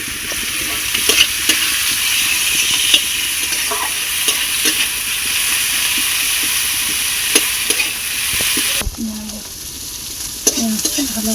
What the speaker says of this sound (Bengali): পেঁয়াজটা ভালো করে ভাজা হয়ে গেছে